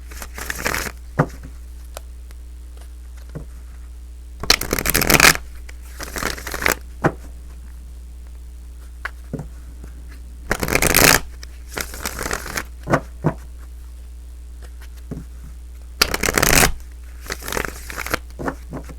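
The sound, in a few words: shuffling tarot love cards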